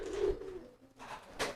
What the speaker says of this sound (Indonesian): Nah, ini merpati kolongnya nih.